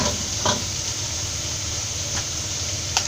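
Egg fried rice with spring onion stalks stirred in a frying pan, a steady soft sizzle with a few brief scraping clicks of the spatula, close and without voices.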